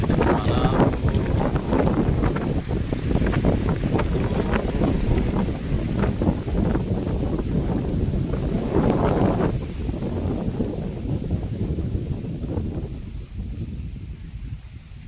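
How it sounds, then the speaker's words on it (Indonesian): Strong gusting wind on the southern slope of Mount Merapi near the Kaliurang lookout, a loud roaring buffet across the microphone that surges and eases in waves before thinning out near the end. "kencang sekali anginnya sejak semalam"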